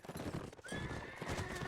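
Horses clip-clopping and neighing during a video game cavalry battle, a close burst of hoofbeats with a sharp whinny, with faint background voices.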